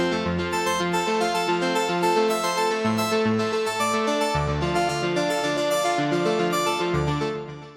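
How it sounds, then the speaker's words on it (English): A polymer synthesizer plays a melodic sequence with a delay effect smearing each note into repeating echoes, steady and fairly loud throughout, trailing off at the end. "which is a polymer instrument with a delay effect on it"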